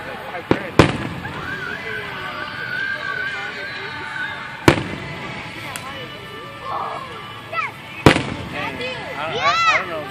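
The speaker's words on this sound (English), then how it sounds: "The fireworks? Couple million dollars?" July 4th fireworks burst in sharp, loud bangs spaced a few seconds apart, with crackling and whistling trails between them and people talking and cheering in the background.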